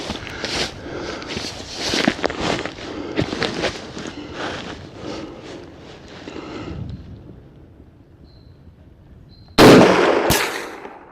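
A Mosin-Nagant 91/30 rifle loaded with 203-grain Silver Bear ammunition fires at a steel target 500 meters away. Wind and rustling lead into a quiet pause, then one loud, sharp shot rings out close by near the end.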